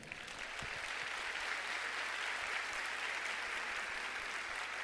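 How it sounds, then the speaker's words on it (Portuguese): A church congregation applauding during a sermon, a loud, dense and steady roar of clapping from many hands that continues evenly for several seconds with little speech over it. "Se você entendeu, dê um aplauso ao Senhor."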